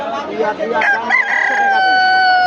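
A rooster crows loudly and close by at an outdoor poultry market, its long call ringing out over the clucking and murmur of other chickens, including Silky chickens.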